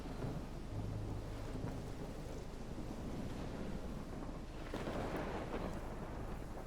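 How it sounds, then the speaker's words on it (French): A thunderstorm in the video game Life is Strange: steady heavy rain and wind under a low rolling rumble of thunder, with a louder crack swelling midway, no voices. "La big tempête."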